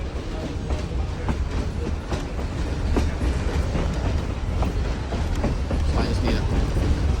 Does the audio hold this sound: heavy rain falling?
no